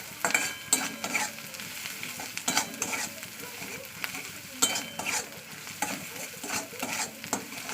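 Taro curry sautés in oil with a constant sizzle and frequent quick, scraping strokes of a spoon against the pan, close-up and busy throughout.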